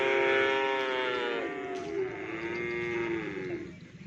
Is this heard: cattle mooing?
yes